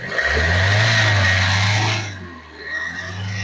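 A diesel car engine with an EGR valve revs hard and steady, loud and close, for about two seconds before dropping back to a lower idle.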